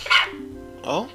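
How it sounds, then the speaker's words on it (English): A dog barks indoors at a door, two short bursts about a second apart, close by, with a person's brief voice mixed in. "that is a dog, isn't it?"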